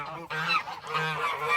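Geese honking at a farm animal sanctuary, a run of loud, close, harsh calls repeating over about a second and a half with no other sound.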